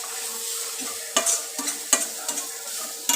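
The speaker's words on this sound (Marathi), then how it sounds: "दोन तीन मिनिटात आपला मसाला छान भाजून होतो" Spice masala with turmeric and green chilli roasting in a pan for homemade samosa potato filling: a steady, soft close sizzle broken by about five sharp spatula scrapes and stirs at irregular intervals, with no voices.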